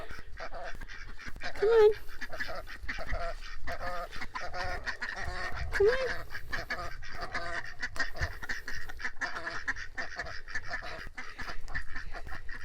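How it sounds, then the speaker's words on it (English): Domestic ducks quack and honk as a flock is herded into its pen in a garden, the calls short and scattered at close range under a person's encouraging talk. "Ducks are so nice because you can herd them and they all stay together."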